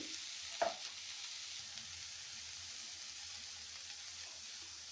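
Cabbage curry with chili powder and salt being stirred in a pan: a faint, steady low sizzle with one sharp utensil clank near the start and soft scraping afterward, no voices.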